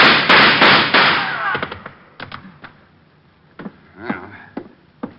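Gunfire in an old radio detective drama: a loud burst of sharp cracks at the start, then a few scattered single reports and thuds fading into quieter background, with no voices over them.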